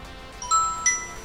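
A mobile phone plays its message notification: two quick, bright chime tones, close and clear against near-silence.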